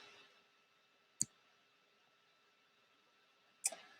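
Two sharp computer mouse clicks, about two and a half seconds apart, stand out against a quiet room hiss while someone browses a hospital procedures page on screen.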